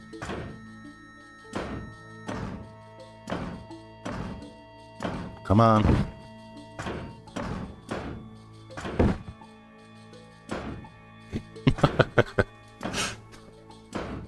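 In the horror video game GOODBOY, an object is banged up and down in a steady rhythm of heavy thunks roughly every second, with a voice talking over some of the hits.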